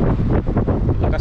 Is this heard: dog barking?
no